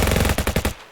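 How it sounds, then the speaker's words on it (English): A rapid submachine gun burst sound effect plays during a tabletop wargame of Bolt Action, about eight close, loud shots in quick rhythm that cut off sharply and leave near silence. "he is going to unload with his 3 SMGs at these dudes"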